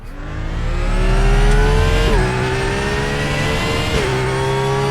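A race car engine in RaceRoom drones loud and steady through a qualifying lap, its pitch dipping with each gear change and then climbing again.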